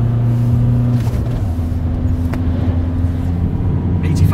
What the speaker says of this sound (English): Let it rev out a little bit longer.